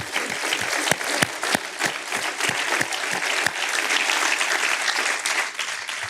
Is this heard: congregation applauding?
yes